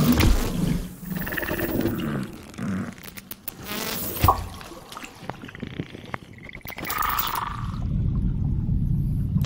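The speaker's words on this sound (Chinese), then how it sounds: "Bring the elusive song of the harbor porpoise to the range of our human hearing." Harbor porpoise vocalizations pitched down into the human hearing range, heard as a shifting mix of low rumbling pulses, sharp clicks and brief tonal whistles, fairly close and steady with no talking.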